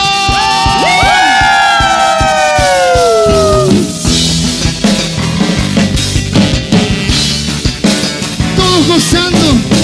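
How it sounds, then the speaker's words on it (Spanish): A crowd shouts and cheers in a burst of joy at a Christian dance celebration with tambourines in Bolivia, loud whoops and children's yells rising over rhythmic music and drumming that carries on throughout. "Quiero verlo con un grito de júbilo."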